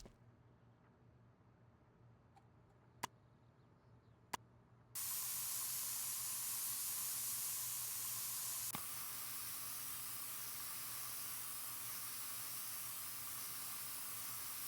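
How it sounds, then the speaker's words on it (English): A spray paint can hissing in Spray Paint Simulator: a few faint clicks, then a loud, steady, close hiss that starts abruptly and runs without a break for about ten seconds, alone without any voices. "once you've got the spray paint flowing"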